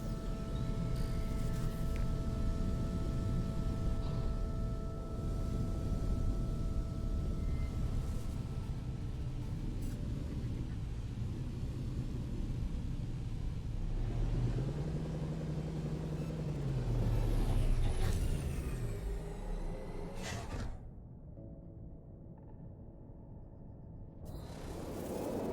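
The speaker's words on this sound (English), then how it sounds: "It is a storm outside." A storm rages in No Man's Sky as a steady, dense roaring rumble with faint humming tones, swelling briefly midway and then cutting sharply away near the end.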